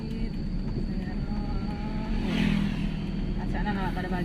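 A car's engine hums steadily and rises gently under light throttle during a driving lesson, a constant close drone beneath an instructor's talking.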